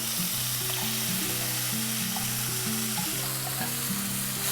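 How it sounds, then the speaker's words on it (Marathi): Ground masala of onion and tomato frying in a pan for a soybean and potato curry, with a dense continuous sizzle close up and a melodic tone in the background. "कांदा आणि टोमॅटोचा कच्चेपणा जाईपर्यंत आपल्याला हा मसाला फ्राय करून घ्यावा लागेल।"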